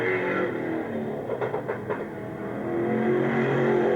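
Speedway race cars circle the track at Wollongong City Speedway in 1983, engines roaring and revving in a loud continuous drone that dips briefly, then swells again as the cars pass.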